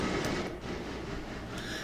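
A 1,000-ton freight train labours slowly uphill after a long climb, a steady, heavy rumble of rolling wagons and engine running continuously and fairly close throughout.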